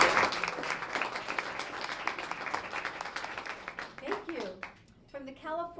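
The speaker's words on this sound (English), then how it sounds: "Let's give you a great round of applause." Audience applause at a military school student-of-the-month ceremony, steady dense clapping for about four seconds that thins out as a voice begins speaking near the end.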